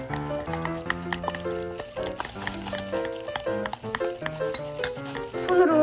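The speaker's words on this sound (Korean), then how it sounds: "그리고 이렇게 저어주세요." Peanut butter, sugar and an egg are stirred together in a bowl for flourless peanut butter cookies. A spoon makes continuous, close, squeaky scraping with shifting pitch in an uneven rhythm, and no one talks.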